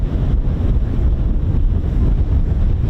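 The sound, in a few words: strong wind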